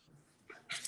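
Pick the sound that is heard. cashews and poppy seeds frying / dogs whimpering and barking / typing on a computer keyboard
dogs whimpering and barking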